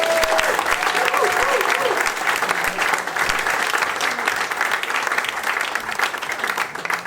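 Loud, dense audience applause for a folk band in a village hall, continuous clapping close by with a few whoops and voices mixed in.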